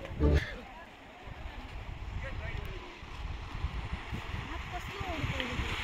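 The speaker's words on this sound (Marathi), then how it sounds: "लाटा खूपच खवळलेल्या आहेत" Rough sea waves wash onto Kasheli and Devghali beach in Ratnagiri, a continuous broad surf roar with wind buffeting the microphone and a voice faintly present.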